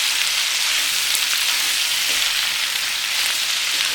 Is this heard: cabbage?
yes